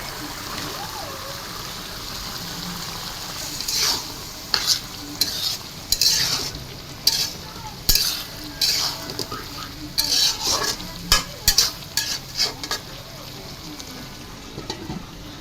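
Potatoes and chilies frying together in a pan, a steady sizzle overlaid with frequent scraping, clattering stirs of a utensil that grow busier and more rhythmic partway through.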